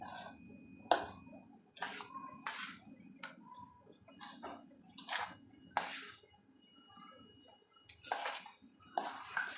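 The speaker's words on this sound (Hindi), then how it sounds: "अब मैं इसमें चमचा चलाऊंगी," Spoon clinking against a bowl while mixing mashed potato tikki mixture, with repeated scraping taps and soft squishy stirring at an irregular rhythm, close and moderately quiet.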